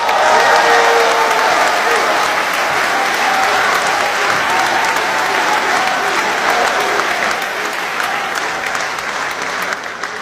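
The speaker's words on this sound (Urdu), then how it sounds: "آپ سب کی بھرپور تالیوں میں تہذیب حافظ صاحب۔" Audience at a mushaira in Urdu clapping for a poet, a dense, loud burst of applause from a large crowd, steady throughout and easing slightly toward the end.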